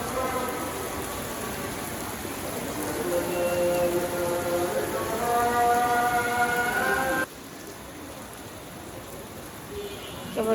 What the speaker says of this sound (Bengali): রান্না বান্না শেষ হলো সুন্দর একটা বৃষ্টি নামলো